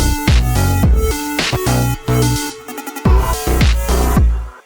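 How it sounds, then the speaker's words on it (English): A synth lead chops into rapid stuttering repeats over a punchy electronic beat with heavy kick and bass, loud and upfront, briefly cutting out before the groove resumes. "we're gonna add this little lead stutter here before the second half of the third drop"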